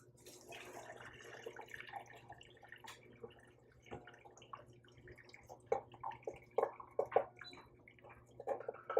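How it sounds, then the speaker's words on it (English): Cooked beans and their liquid are poured from a Dutch oven into a colander, giving soft, faint trickles, drips and wet squishes that grow into scattered louder splats toward the end. "I'm going to pour the liquid out and the beans out into this colander right here."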